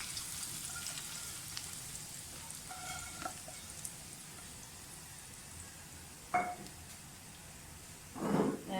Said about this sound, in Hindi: जो तड़का है वो मैं इसमें डाल दूँगी